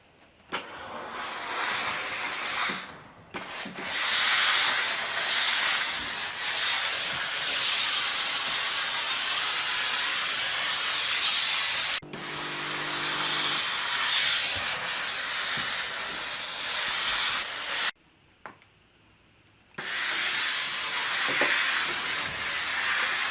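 Steam cleaner with a towel attachment soaked in soap and vinegar, wiping a sofa: a loud continuous hiss of steam in long bursts, broken by brief pauses and short quiet gaps, with no talking.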